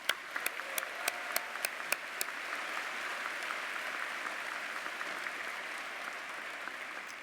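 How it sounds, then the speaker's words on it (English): Commencement audience applauding award recipients at a university graduation, a broad, distant wash of many hands clapping, steady and even, with a few sharper nearby claps at the start. "please give our recipients of all the awards another round of applause"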